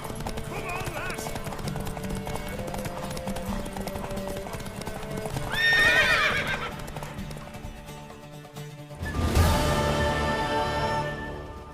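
In The Witcher 3, a mare's hooves clip-clop steadily at close range, broken by a loud horse neigh, while characters talk over the scene.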